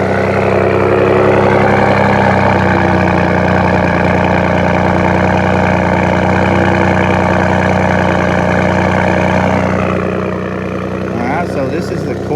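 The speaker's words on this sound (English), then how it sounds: "Let's do a cold start, and then once it warms up, we'll do some rev." Cold start idle of a Ford 3.5L EcoBoost with a Corsa Extreme catback exhaust, a steady loud low drone heard close up, with a slight change near the end.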